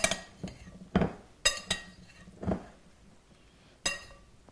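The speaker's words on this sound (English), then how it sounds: "I'm in a big enough bowl so I can mix that well" A metal utensil mixes poppy seed fruit salad in a big bowl, making a handful of separate clinks and knocks against the bowl with quiet gaps between them. No one speaks.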